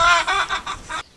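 Chickens in a coop give a short run of about five rhythmic clucks, close and moderately loud, then fall silent.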